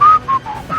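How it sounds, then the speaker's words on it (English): A person whistles a few short, clear notes in three brief bursts, close and fairly loud, over a quiet room with no talking. "Start whistling."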